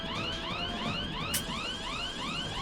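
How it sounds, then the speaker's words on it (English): An alarm ringing in the video game Covert Ops Nuclear Dawn, a repeating electronic siren that sweeps up in quick rising whoops about every third of a second, fairly quiet and continuous, with a brief click partway through. "So we can shut this damn alarm off."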